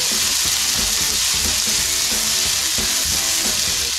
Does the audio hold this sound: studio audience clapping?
no